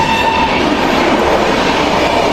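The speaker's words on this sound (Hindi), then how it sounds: "यहाँ से अपनी निकलती हुई ओवरटेक करके गतिमान एक्सप्रेस" The Gatimaan Express overtakes near Mathura in a loud, close, continuous roar of rushing wheels and rattling coaches, with no pause for the whole stretch.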